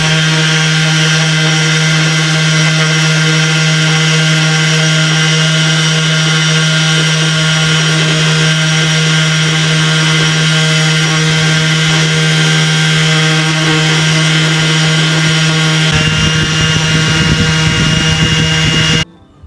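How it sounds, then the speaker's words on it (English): Power tool sanding Subaru Impreza brake caliper pins, a loud continuous high-pitched motor whine with a steady hum that holds throughout, its texture roughening near the end before cutting off abruptly. "The pins are all sanded down, ready for painting"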